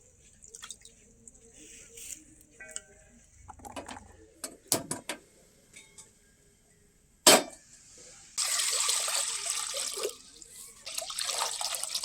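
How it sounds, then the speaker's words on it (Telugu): A pot of water sits on a home gas stove over a high flame. Scattered clinks and drips come first, then a steady, loud burner roar and hiss take over for the last few seconds. "పొయ్యి మీద నీళ్ళు పెట్టాను. ఇది ఎక్కువ పెద్ద మంట మీద పెట్టి నీళ్ళు కాస్తున్నా."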